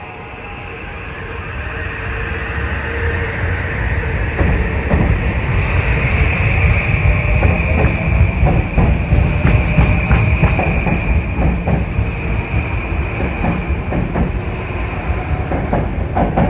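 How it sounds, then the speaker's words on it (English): A Metro-North commuter train passes through Harlem 125th Street station with a loud, sustained rumble and rail clatter. It builds over the first few seconds and then holds steady throughout. "This is a real high wheeler. Train 1548."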